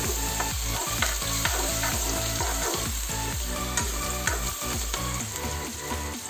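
Onion, turmeric and salt fry with silkworms in a pan, a loud steady sizzle with rhythmic scraping and stirring strokes throughout, no voices.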